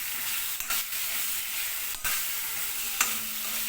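Katla fish fries in a pan with a steady, bright sizzle that carries right through, broken by a few sharp clicks and scrapes of a utensil, close and with no voices.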